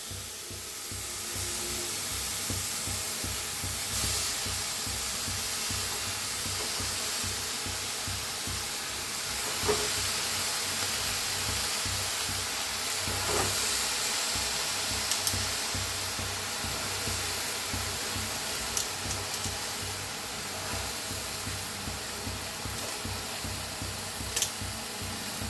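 Radish greens hit a hot pan with roasted radish and fry in a continuous soft hiss and sizzle, with faint crackles and occasional light clinks scattered across the long stretch, no talking.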